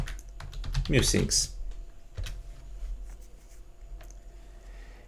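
Keys on a computer keyboard clatter in a quick burst of clicks, then a few scattered taps, close and fairly quiet, with a short spoken word over the typing.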